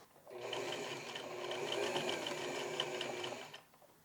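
A sewing machine stitching stretchy jersey fabric runs in one continuous burst of about three seconds, a close, fast mechanical whirring clatter that starts and stops cleanly, with no talking.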